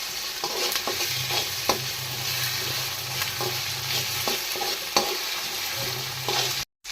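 Ginger garlic paste fries in a pan with a constant sizzle and regular spoon strokes scraping through it, close and fairly loud, before a sudden brief cut near the end.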